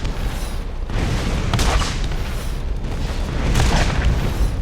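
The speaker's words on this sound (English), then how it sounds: "Just stand at the entrance and start shooting missiles." Missiles exploding at a bandit camp in the Borderlands video game: heavy booming blasts rolling continuously, with dense low rumble and repeated crackling impacts, loud and close with no speech.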